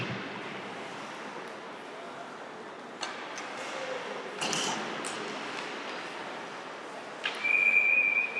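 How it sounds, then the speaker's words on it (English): Referee's whistle at a junior varsity ice hockey game, a sharp steady blast near the end over continuous arena crowd noise. "The whistle blows as Roydo covers the puck against the side of"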